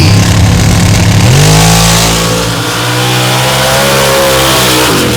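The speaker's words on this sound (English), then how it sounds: "in the front of Cody Snodgrass's S10s, 2 of the most renowned engine builders in this sport and in this class, going toe-to-toe in the finals at DT." Two drag-racing trucks, a Chevy S10 and a Jeep, launch side by side in a finals pass, their engines roaring loud and close with a sharp rise in pitch as they accelerate hard down the strip.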